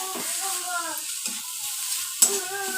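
Momo stuffing being stirred in a pan after a spoonful of soy sauce goes in, with soft scraping and sizzling cooking sounds and a brief louder clink near the end, while someone talks over it.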